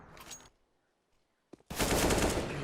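Counter-Strike gunfire during a pro match, starting with a short burst, then near silence with a couple of faint clicks, then a loud, dense volley of rapid shots close by that continues to the end.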